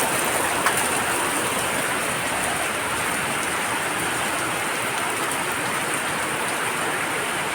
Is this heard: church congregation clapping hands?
no